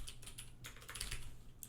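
Rapid keystrokes clatter on a computer keyboard as a terminal command is typed, a string of close, crisp clicks in irregular quick bursts with no speech.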